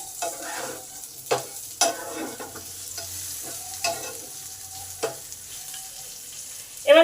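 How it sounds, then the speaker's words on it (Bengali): Potatoes fry and steam under a lid in a pan, a quiet, steady low sizzle punctuated by a few sharp clicks and pops, with no talking. "আট মিনিটের জন্য চাপা দিয়ে দিলাম আলুটা ভাজা হবে আর সেদ্ধ হবে"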